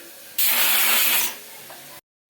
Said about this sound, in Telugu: ఇంకా ఇక్కడైతే ఒక విజిల్ వచ్చిందండి